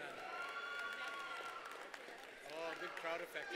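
Crowd at a spring convocation graduation ceremony cheering and clapping for a graduate, a loud, dense wash of cheers and applause that swells near the end, with voices mixed in.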